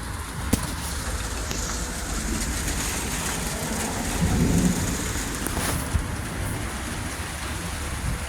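Heavy rain pours in a severe thunderstorm as a loud, dense, steady roar, with a deeper low rumble of thunder swelling midway through.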